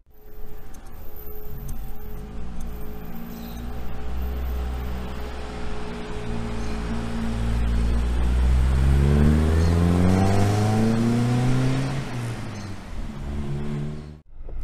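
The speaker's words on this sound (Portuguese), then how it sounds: "Essa, por exemplo, é um motor de 4 cilindros e 2 litros" A four-cylinder, two-litre engine in a Mercedes-Benz 200 of the W123 series runs steadily nearby, then revs up to a louder, rising whine before easing back down.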